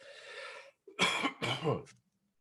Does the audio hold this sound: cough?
yes